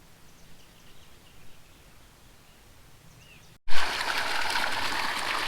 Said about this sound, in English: we got the pump on and I'm brushing the sediment you see there on the bottom towards the filter